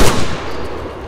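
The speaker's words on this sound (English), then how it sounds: "Was that you shooting?" A single loud gunshot from an Arma 3 firefight, a sharp crack at the start followed by a rumbling tail that fades over about a second.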